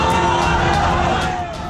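Street protest crowd in Araria, Bihar, a dense roar of many voices shouting together, loud and continuous throughout with brief rising whoops.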